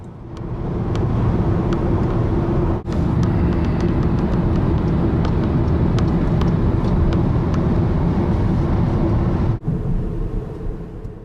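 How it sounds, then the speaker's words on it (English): A car speeds along the German Autobahn, its steady, loud roar of engine, tyres and wind filling the cabin without a break, with a couple of brief dips in the noise and no voices. "We covered many kilometres on the Autobahn in quick time."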